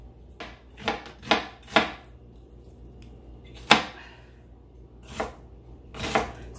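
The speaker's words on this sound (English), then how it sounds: "I'm just roughly chopping up my vegetables" A knife roughly chopping vegetables on a cutting board, heard as clusters of crisp, close taps: a quick run of four strokes, a pause, then three more spaced chops.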